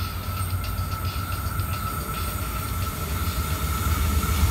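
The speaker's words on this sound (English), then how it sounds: "Stopping train. This train." A stopping passenger train rolls through a station at Janalli, a steady loud rumble with rhythmic wheel clatter and a faint high whine, close by and continuous with no talking.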